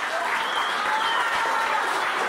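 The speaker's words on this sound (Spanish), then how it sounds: "Aquí quiero que reciban con un fuerte aplauso" Audience applause at a salsa club reopening with an orchestra, a dense, even burst of clapping filling the room.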